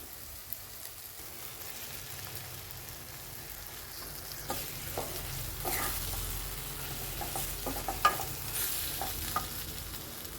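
Okra tossed into a frying masala in a pan gives a soft, steady sizzle, with occasional spoon scrapes and clicks growing busier midway, no voices.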